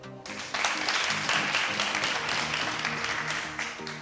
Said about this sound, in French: Aujourd'hui, on va applaudir pour commencer Anieko